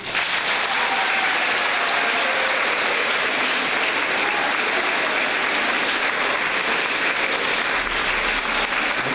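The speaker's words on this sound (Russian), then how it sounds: "Так Николай Дмитриевич сорвал все аплодисменты наши" Sustained, dense applause from an audience of women at Yaroslavl city hall after a man recites poetry, steady and fairly loud throughout with no talk.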